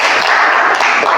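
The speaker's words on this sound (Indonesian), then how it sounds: "Kasih tepuk tangan untuk kelompok 4 ya." A classroom group gives a round of applause for a presenting student team, dense steady clapping lasting about a second, close and loud.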